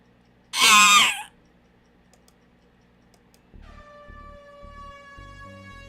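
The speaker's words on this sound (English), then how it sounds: "the piercing sound of an air horn suddenly rings out from behind the register" A loud, steady air horn blast sounds after a short burst of noise, holding its blaring tone to the end.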